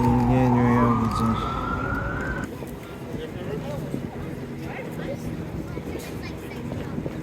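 Emergency vehicle sirens wail on a busy New York street near Columbus Circle, a loud rising siren tone up close at first, then fading into city traffic and crowd noise with people talking.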